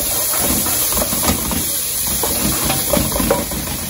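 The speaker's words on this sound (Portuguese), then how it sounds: "Cebola refogando." Chopped onion sizzling in hot margarine in a pan, a steady crackling hiss with irregular spitting pops throughout, close and fairly loud, with no voices.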